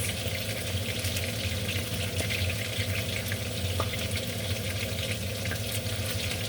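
Meat browning in a hot pan for stroganoff, a constant soft sizzle and crackle with scattered pops, steady and moderately quiet throughout, with no talking.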